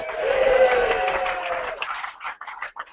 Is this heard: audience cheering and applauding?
yes